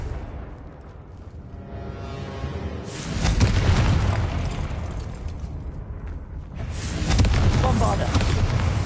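Confringo spell blasts in Hogwarts Legacy land as two big, rumbling explosions a few seconds apart, each swelling loud and dense before trailing into a crackling roar.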